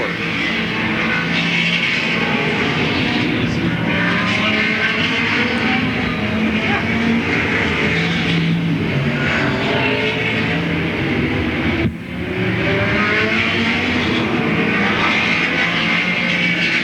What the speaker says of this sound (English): the race leaders move out of turn number 2 and down the back straightaway